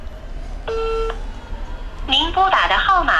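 Touch-tone telephone dialing, a steady multi-tone beep followed by a rapid run of keypad tones, heard alongside an automated operator message about an unreachable number.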